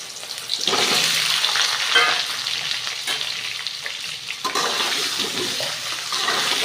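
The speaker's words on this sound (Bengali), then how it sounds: "আলুগুলো ভালো করে ভেজে নেব।" Small potatoes frying with whole spices in hot oil give a loud, steady sizzle with brief bursts of stirring and crackle throughout, close by, with no talk.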